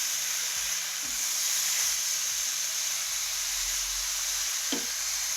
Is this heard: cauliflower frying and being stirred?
yes